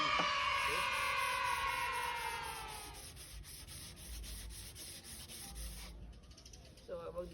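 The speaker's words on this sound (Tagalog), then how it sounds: "kailangan muna natin siyang lihain ng 120" Wood is hand sanded with 120-grit sandpaper in steady close rasping strokes that gradually fade, joined near the end by a regular rhythmic scraping.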